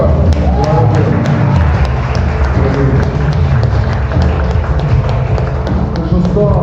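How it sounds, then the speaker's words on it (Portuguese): A church congregation applauding the Lord, loud sustained clapping from a crowd filling the room, dense and continuous with voices mixed in. "Você pode aplaudir o Senhor?"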